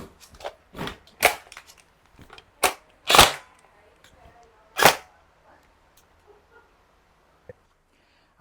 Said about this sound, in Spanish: lo saco, realizo el giro, abro mis tres dedos para agarrar el otro cargador, cambio y lo coloco